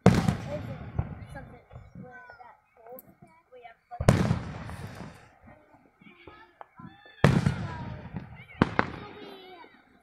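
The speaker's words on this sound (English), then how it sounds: "Or fireworks behind those trees." Fourth of July fireworks burst outdoors in three loud, sharp booms spaced a few seconds apart, each trailing off into crackle, while people talk and children's voices carry in between.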